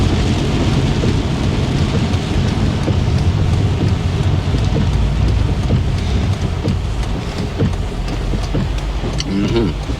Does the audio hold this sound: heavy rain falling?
yes